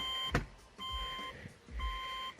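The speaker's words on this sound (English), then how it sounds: "your key's not going to come out and it's going to beep while you're doing this" A 2008 Subaru Legacy sounds a steady electronic warning beep with the key left in and the car in neutral, heard as three long tones separated by short gaps and accompanied by a few low thumps.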